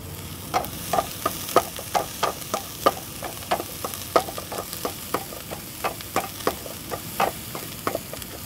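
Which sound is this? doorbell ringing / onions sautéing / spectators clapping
onions sautéing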